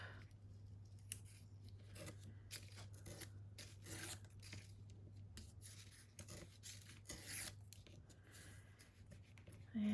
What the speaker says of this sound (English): I'm just going to trim just a tiny little bit off the bottom of them